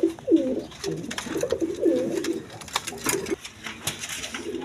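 A pair of Damachi pigeons coo in repeated low, rolling phrases, fairly close, over a busy background with clicks and a faint murmur of voices.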